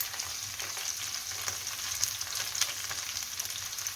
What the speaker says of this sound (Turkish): Şimdi ikinci parti koydu annem. Onları da bu şekilde kızartacak.